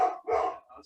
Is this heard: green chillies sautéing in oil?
no